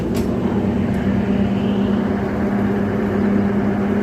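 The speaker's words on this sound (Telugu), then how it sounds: "ట్రైన్ అనేది బయలుదేరుతుంది" A DEMU passenger train pulls out of Kodakandla station in Telangana, a steady loud diesel engine drone with a low hum, heard close and continuous with no talk.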